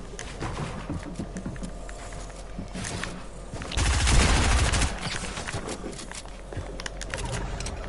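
SMG fire in a video game rattles through a busy, cluttered mix, with a louder dense burst of rapid shots near the middle amid ongoing background clatter.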